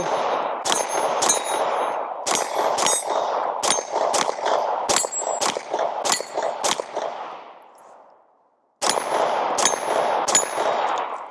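Pistol shots ring steel targets in a quick string, each sharp crack followed by a metallic clang, close and loud, then a short silent pause before a few more shots.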